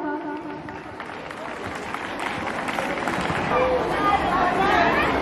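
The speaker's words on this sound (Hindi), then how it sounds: "तो तालियों से स्वागत कीजिए दिव्यांशु का" Applause welcoming student Divyanshu to the stage at an Independence Day school event: crowd clapping and murmuring chatter rise steadily, mixing with voices in a busy hall.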